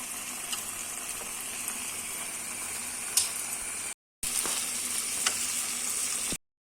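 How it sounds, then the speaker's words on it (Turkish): Tomatoes with pepper paste sizzling steadily in a pan, a dense, close hiss with faint occasional pops, broken by a brief silent cut before the frying resumes at the same level. "Domatesimiz tamamen pişene kadar pişirelim."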